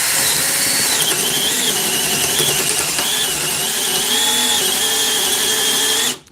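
A Milwaukee compact power drill runs continuously, loud and close, with a high whining motor pitch that wavers and dips as it bites into the material, stopping sharply at the end.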